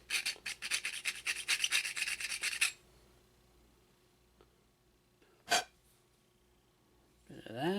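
Small file rasping at a tiny 1/16-inch drilled hole in a Heng Long 1/16 scale M26 Pershing airsoft tank turret part, rapid close back-and-forth strokes for a few seconds, then a quiet pause with a single knock.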